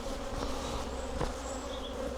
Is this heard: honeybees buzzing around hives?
yes